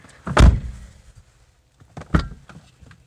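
Ford E350 van door worked twice, a loud close thud followed a moment later by a second clunk of the latch, close by with quiet gaps between.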